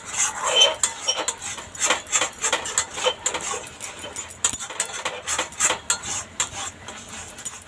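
A utensil scrapes and clinks irregularly against a metal wok, quick stirring strokes through thickening milk close by, with a faint voice in the background.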